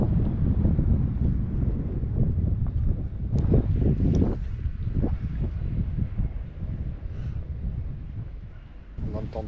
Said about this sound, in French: Le vent se lève.